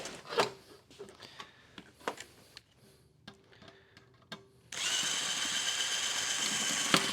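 Drill bit boring out a pop rivet in sheet metal: scattered taps and short clicks, then a steady close whirring drill run over the final seconds.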